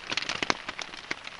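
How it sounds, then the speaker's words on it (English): Rain falls on an improvised camp shelter in the Hoh Rain Forest in December, faint irregular drops tapping and crackling on the surface in quick, uneven bursts. "it's still raining"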